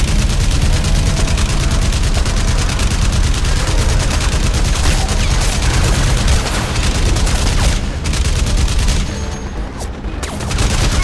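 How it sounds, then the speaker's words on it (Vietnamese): Sustained heavy machine gun fire in the Crysis Remastered video game, a continuous loud rattling barrage mixed with booming explosions, easing briefly near the end before resuming. "Nhìn là biết chắc chắn kiểu gì cũng có súng máy đây."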